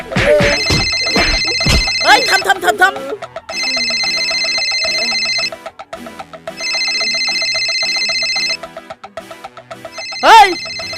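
A mobile phone rings in a village home with repeated bursts of an electronic ringtone, separated by short gaps, while people talk and shout loudly around it at the start and the end.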